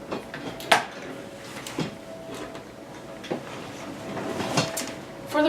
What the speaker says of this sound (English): Okay, move my sewing machine over here.